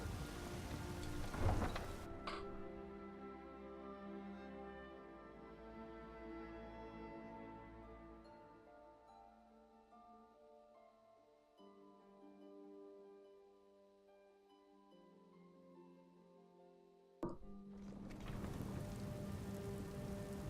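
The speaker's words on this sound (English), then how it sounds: "Not sure if going out at night time during a rain and thunderstorm is the best idea" Steady rain pours in a night-time thunderstorm in the video game The Elder Scrolls V: Skyrim on Switch, a dense hiss under layered ambient music, with a loud crack of thunder near the end before the downpour swells again.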